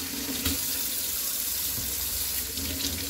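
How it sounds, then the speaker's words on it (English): Water runs steadily from a faucet inside a diesel pusher RV, a continuous close hiss and splash that holds through the whole moment with no talking. "You do want to check for hot water at each faucet."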